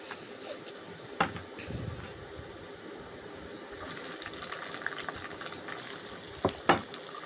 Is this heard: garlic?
yes